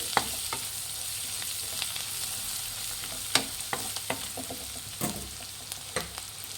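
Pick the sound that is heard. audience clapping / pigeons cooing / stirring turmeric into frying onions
stirring turmeric into frying onions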